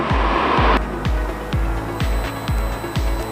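A small single-engine airplane in flight over Vermont throttles back toward 1900 rpm, its engine droning steadily with rhythmic pulsing beats and a roar that drops after the first moment.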